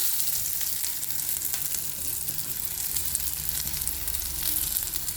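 Dried red chilies and curry leaves crackling in hot oil in a pan, a faint, steady sizzle with light spatters, heard close and without voices.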